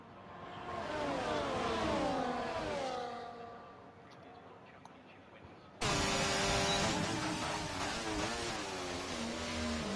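F1 24 race cars in a Brazilian GP video game race start the final lap, engines whining and shifting pitch loudly, dipping briefly before a sudden burst of louder engine noise, with a commentator speaking over it.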